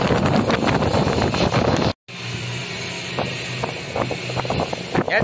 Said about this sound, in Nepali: यहाँ चाहिँ हेभी हावा चलिरहेको छ